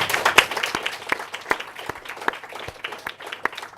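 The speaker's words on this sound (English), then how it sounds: "So a big round of applause for our delegates." Steady applause from a modest crowd, a ripple of many hands clapping close by with a few sharper individual claps standing out.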